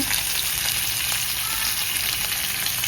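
Fish frying in a pan until crisp gives a loud, dense, continuous sizzle that stays even from start to finish, with no voices.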